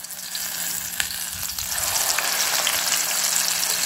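Eggplant omelette with egg and sausage, tortang talong, sizzling in a frying pan over lowered heat, a close, steady crackling hiss that swells slightly louder partway through, with a few small pops and no voices.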